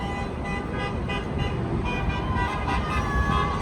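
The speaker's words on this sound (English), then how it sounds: "So I heard this honking" Car horns toot repeatedly outside during a Trump Pence autocade in Houston, Texas, layered over a constant roar of passing traffic.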